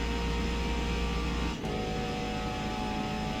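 A Ferrari in Forza, lapping the Nürburgring, drones steadily under acceleration with a faint, even engine tone and a brief dip as a gear changes midway.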